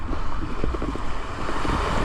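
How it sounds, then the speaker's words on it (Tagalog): Large ocean waves surge and wash around a small fishing boat at sea, a continuous loud roar of water and wind buffeting the microphone, with no talking. "Lalaki ng alon"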